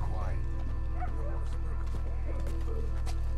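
A dog yips and barks in the open-world western video game Red Dead Redemption 2, several short calls scattered under a constant low rumble, with a voice talking over it.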